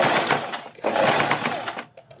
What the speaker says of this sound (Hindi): फिर इसके ऊपर सिलाई लगा लें